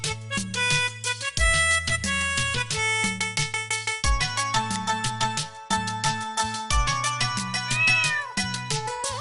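A voice imitates a cat's meows over and over in a steady rhythm within a Hindi children's nursery song, set against loud, bouncy electronic music.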